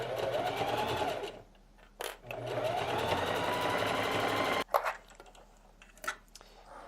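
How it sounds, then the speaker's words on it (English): A sewing machine stitching fleece runs in steady, rapid bursts, with brief pauses and a few clacks between stretches of stitching, close and fairly loud. "let the feed dogs of this sewing machine pull the fabric through"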